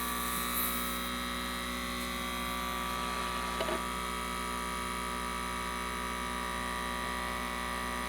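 A Pristine Vinyl ViVac record cleaning machine runs with a steady, even electric motor hum and faint whine, unbroken and close, with one tiny click midway.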